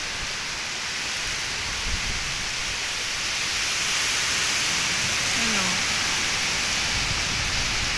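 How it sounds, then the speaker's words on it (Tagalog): Strong typhoon wind roaring in Manito, Albay, a dense, constant rushing noise that fills the whole stretch with steady force and no pauses. "Ayan, ito yung lakas ng hangin dito sa Manito Albay."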